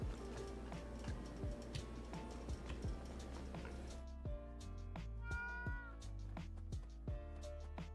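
Cat meowing in a video game, several short distinct meows repeated over a steady background of game audio, clear and fairly close.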